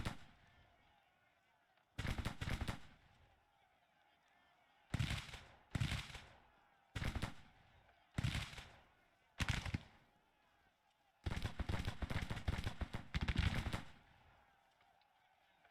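Musket fire from skirmishers in the Grand Tactician strategy game: distant, sharp single shots and ragged clustered volleys crack out in separate bursts between quiet gaps, over a faint steady ambient background.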